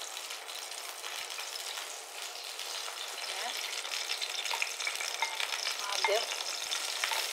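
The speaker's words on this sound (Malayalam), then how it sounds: "മഷ്റൂം ഒന്ന് വഴറ്റാം" Mushrooms sautéing in a hot pan give a continuous broad sizzle with occasional stirring scrapes, while a voice briefly speaks over the cooking.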